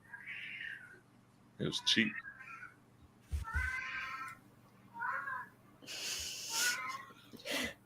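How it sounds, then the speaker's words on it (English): A small alley cat meows several times in short, plaintive calls, close by, interleaved with people talking during a tabletop role-playing game session. "Yeah, that's a cat."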